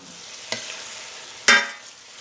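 Chicken gravy stirred in a pan, with two distinct scraping strokes of a spoon, a light one early and a louder one later, over a faint steady sizzle.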